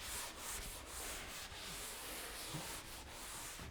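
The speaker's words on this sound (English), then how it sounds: "And all we do is get our scrubber and just" Steady scrubbing of a scrubber against a wall surface while prepping a kitchen ceiling and walls for paint, a continuous close rasping rub with slight rhythmic strokes and no talk.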